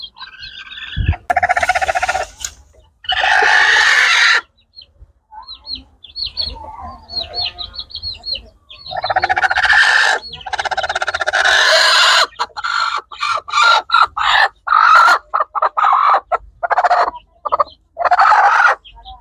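Hens cluck and cackle loudly and close by in repeated bursts with short pauses between them, while eggs are being set for hatching.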